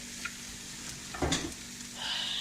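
Cabbage and beef cooking in a pot for keto soup, a quiet steady sizzle with a brief stir or scrape in the middle, no talking.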